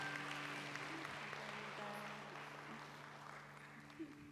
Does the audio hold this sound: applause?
yes